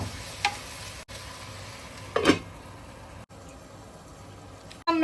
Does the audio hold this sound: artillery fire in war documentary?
no